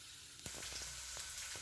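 Chilies frying in a pan for daal give a continuous bright sizzle with a few soft stirring clicks and scrapes, close and steady.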